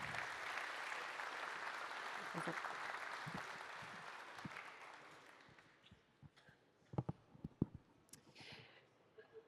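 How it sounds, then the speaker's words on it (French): Audience applause welcoming Vanessa Legueigneur, director of SIAP de Colombes, at an annual general assembly: dense sustained clapping from a hall crowd that thins out into scattered individual claps before fading. "je vous propose d'accueillir sous vos applaudissements Vanessa Legueigneur"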